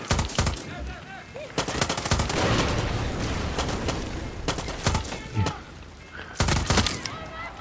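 Gunfire in the Far Cry 6 video game: repeated loud bursts of automatic weapon fire and single shots erupt in clusters across the whole stretch, with a voice muttering between the volleys.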